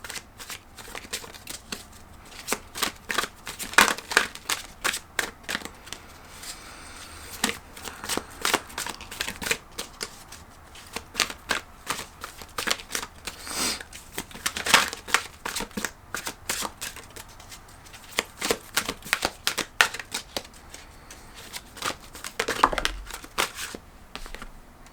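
A tarot deck being shuffled and cards drawn, a close run of crisp riffling and flicking bursts with quieter card handling in between, no talking.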